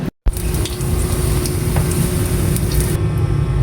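Malunggay leaves tossed into a pan of sautéing fish bring a sudden loud burst of sizzling, followed by a steady hiss of frying oil that continues up close.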